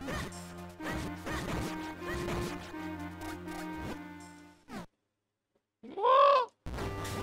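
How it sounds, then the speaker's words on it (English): A bird call from The Legend of Zelda: Minish Cap rings out as a short, loud, bright chirp after a brief silence, following a dense stretch of game music and sound effects. "The bird!"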